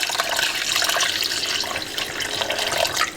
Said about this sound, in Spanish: le vamos a agregar otros 2 litros de agua